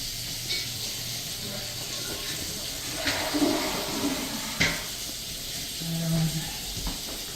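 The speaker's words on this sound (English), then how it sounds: "I turn the water on." Water running from a tap in a house during a pre-leasing inspection, a steady hiss with faint knocks and clatter in the background.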